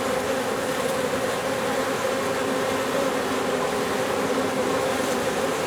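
Honeybees returning with pollen swarm around a hive entrance in a dense, continuous, even buzz, close and fairly loud, with no voices.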